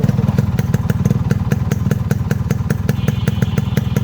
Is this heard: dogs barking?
no